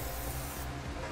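Aerosol lubricant sprayed onto the exhaust hanger above the rear axle of a vehicle during a gooseneck hitch installation, a steady close hiss lasting just over a second before easing off.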